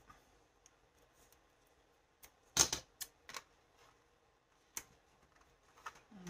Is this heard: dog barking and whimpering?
no